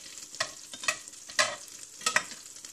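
Butter melting over low heat in a pan, with a soft sizzle and several scraping stirring strokes at irregular intervals, close and unaccompanied by speech.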